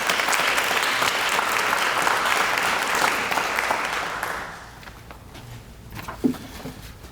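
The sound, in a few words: audience applause for a police chief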